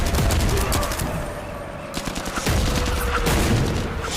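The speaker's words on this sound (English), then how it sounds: "There's bombs going off behind you. There's bombs going off to the side of you. People are shooting." Rapid bursts of automatic gunfire and explosions in the VR shooter game Zero Caliber, dense and loud, with a short lull before the firing resumes.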